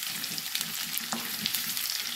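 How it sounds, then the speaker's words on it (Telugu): Tempering spices crackle and sizzle steadily in hot oil in a kadai, a dense close spatter of pops running unbroken throughout with no voices. "ఇప్పుడు తాలింపులు వేసేసుకుందాం"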